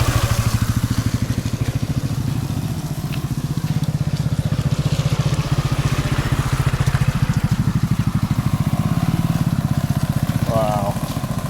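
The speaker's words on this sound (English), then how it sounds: "This motorcycle's gonna splash me." A motorcycle engine runs close by, a steady throbbing chug, as the bike rides through standing water on a rural road in Khajuraho, India; the engine drone stays loud and continuous throughout.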